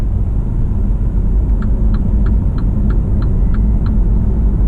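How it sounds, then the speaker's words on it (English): A MINI Countryman hybrid cruising on electric power alone with the petrol engine shut off, giving a steady low road rumble and tyre noise, with a faint high electric whine pulsing through it. "So we are completely driving on electricity right now."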